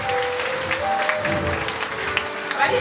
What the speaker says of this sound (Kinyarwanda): Please clap for the worshipers.